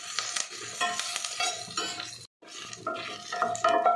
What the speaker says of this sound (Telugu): ఇందులోనే పచ్చికరివేపాకు కూడా కొద్దిగా వేసి ఇట్లా వేయించుకుందాం.